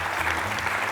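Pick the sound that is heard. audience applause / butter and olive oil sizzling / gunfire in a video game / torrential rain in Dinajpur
audience applause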